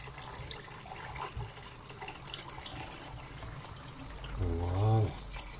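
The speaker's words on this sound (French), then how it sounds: "je vais mettre de l'eau bouillante" Boiling water pours into a chicken tajine in a home kitchen, a quiet steady trickle that swells into a louder gurgling splash near the end, with faint background murmur.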